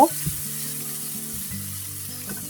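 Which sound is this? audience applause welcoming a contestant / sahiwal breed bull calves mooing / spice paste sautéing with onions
spice paste sautéing with onions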